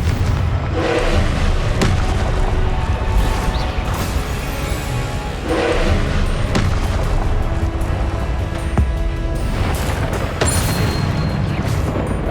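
Confringo fire-blast spells in the video game Hogwarts Legacy burst out one after another, a string of loud booming explosions over a continuous roar of battle noise.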